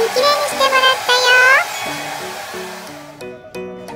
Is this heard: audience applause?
no